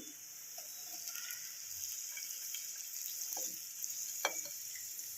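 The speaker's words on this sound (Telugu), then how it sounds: "ఈ రొయ్యలను అందులో వేసుకొని మంచిగా వేయించుకోవాలి" Prawns fry with ginger in a pan, giving a steady, moderately close sizzle with a few soft stirring scrapes and clicks, the sharpest near the end.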